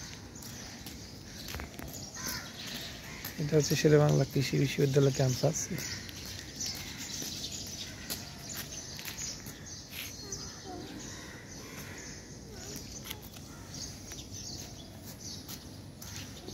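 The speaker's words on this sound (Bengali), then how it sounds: "চারপাশে অনেক পাখির কিচিরমিচির শব্দ।" Morning birdsong on the Sher-e-Bangla Agricultural University campus: scattered chirps and calls, with crows cawing among them, sound faintly around a walker whose footsteps pass, while a person speaks over it and a loud burst of calls rises briefly early on.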